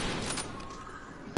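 Gunfire from the video game Black Ops III comes as a dense, noisy burst of rapid shots. The rattle is steady and fairly loud, and it ends with a sharp thump.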